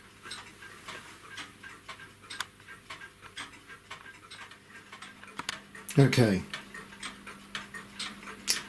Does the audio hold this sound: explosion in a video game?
no